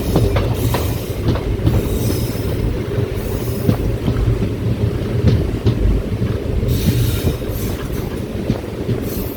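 An unreserved express train on the Mannargudi–Mayiladuthurai line runs loudly, with a continuous heavy rumble, rhythmic wheel clatter and occasional squeals, close and sustained throughout.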